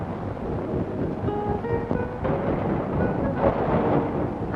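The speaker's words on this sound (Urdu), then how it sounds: "ہماری توپیں کرج رہی ہیں" Deep cannon fire booms and rumbles continuously during a fortress siege in a 1967 Hindi film, a dense low roar with scattered thuds like distant thunder, no voices.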